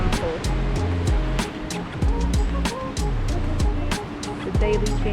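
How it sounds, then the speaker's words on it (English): Waves crash and wash against the rocks below Tanah Lot Temple in Bali, a steady surging roar set under rhythmic background music and a narrating voice. "The daily changes of high and low tide, the crashing waves, and the beautiful, beautiful scenery."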